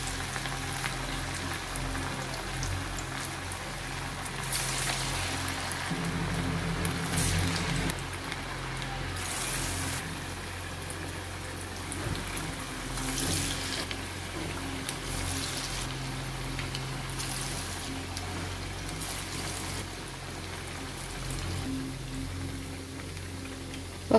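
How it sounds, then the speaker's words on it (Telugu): Moong dal garelu fry in hot oil with a steady, fairly quiet sizzle and crackle that runs unbroken throughout, with no voices over it. "ఈ విధంగా అన్ని గారెలు కాగుతున్న ఆయిల్లో వేసేసుకొని ఫ్రై చేసుకోవాలి"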